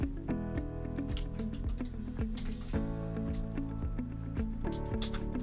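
A computer keyboard is typed on in quick, close, irregular clicks while a file name is entered, with no talk.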